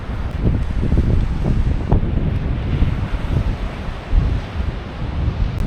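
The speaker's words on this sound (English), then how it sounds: "Oh wow, waves are pumping today." Surf breaking on a beach on Bruny Island, Tasmania, under a steady onshore wind, loud and continuous with heavy wind buffeting on the microphone throughout.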